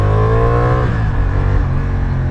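A Honda Hornet 750 motorcycle with its stock exhaust revs up close by, its rising engine note loud and steady before it settles back toward idle.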